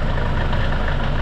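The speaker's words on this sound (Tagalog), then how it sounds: "iayos natin yung ingay ng kanyang makina ng Hyundai Starex" Hyundai Starex with a D4CB diesel engine idling close by with a rattle, a steady low rumble carrying a rapid, even knocking pulse, loud and alone.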